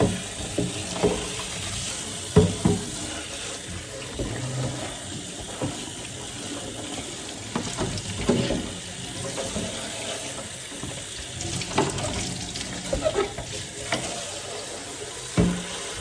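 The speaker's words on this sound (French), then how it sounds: "Ensuite, bien rincer." Running water rinsing a degreased hard body shell for a Tamiya CC-02 Mercedes G500 model car, a steady close splashing flow with scattered clatters and taps throughout.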